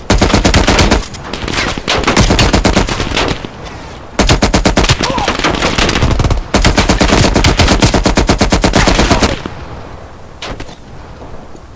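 M16 rifle firing in Black Ops Cold War, loud sustained automatic bursts broken by brief pauses, then falling away near the end.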